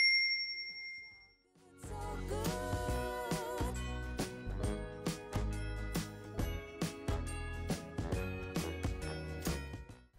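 A bright notification bell sound effect rings out as a loud, repeating chime-like jingle lasting several seconds after a quiet start, with no talk.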